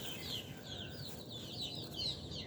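Native desi chickens clucking softly and steadily at morning feeding time, close by, with a continuous murmur of calls and faint scratching over a low background hum.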